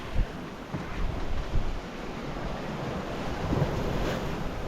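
Ocean waves wash and surge around a 28ft sailboat at sea, a steady broadband roar with heavy wind buffeting the microphone and a few louder gusts, no voices.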